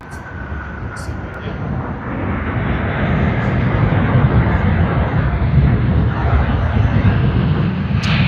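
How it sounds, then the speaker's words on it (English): A Boeing 787-9 Dreamliner airliner passes at Sydney Airport, its broad engine roar building steadily and staying loud and continuous throughout, with no talk over it. "MF801 Chamonix on the Boeing 787-9 Dreamliner."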